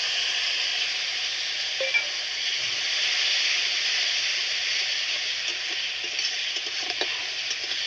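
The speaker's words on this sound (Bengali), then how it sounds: "হলুদ, লঙ্কা একটু নেড়ে নিব।" Turmeric, chili and ground spices frying in oil in a pan while being stirred: a constant hissing sizzle with a few faint clicks and scrapes of the spoon, no speech.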